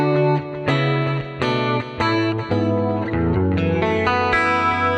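Clean electric guitar through a Fractal AM4 studio clean preset with a shimmering chorus effect, ringing chords and single notes played in a loose phrase, close and fairly loud.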